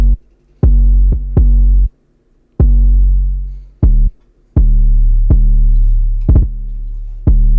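Trap-style 808 bass hits in a synth beat, each deep boomy note choked off abruptly by the next, in an uneven rhythm of about a dozen loud hits with some quick doubles, no voices.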